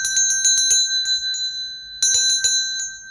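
A bright metallic notification bell chimes in quick repeated clusters, a burst of rapid dings, a pause with a couple of single rings, then another cluster, clear and alone with no talk.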